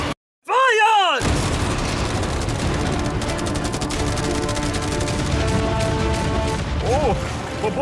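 Machine guns, a hundred cannons and fireworks all fire at once in a deafening, nonstop barrage of rapid bangs and booms that starts after a brief silent moment and rolls on without letup.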